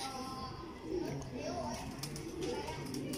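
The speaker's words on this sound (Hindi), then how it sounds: "अपनी असल हालत में जो लाल परी कबूतर होते हैं ये वो कबूतर है" Lal pari pigeons coo softly in low, repeated throaty notes, close but faint beneath someone talking steadily throughout.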